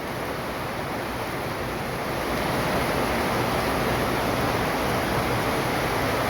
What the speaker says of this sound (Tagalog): kaninang umaga ay mainit nga talaga hanggang tanghali at ngayon ayan umulan na